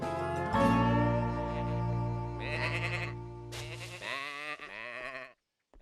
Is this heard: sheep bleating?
yes